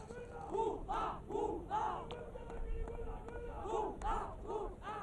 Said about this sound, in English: The Andhra Pradesh dugout, they are already jumping, cheering their captain on as he scans the field.